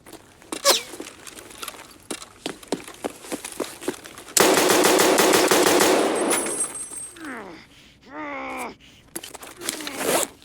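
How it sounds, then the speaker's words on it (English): Video game gunfire crackles in scattered single shots, then a dense, loud sustained burst of automatic fire for about two seconds, followed by ricochet-like whines and a few more shots, with no talk over it. "Stop shooting me."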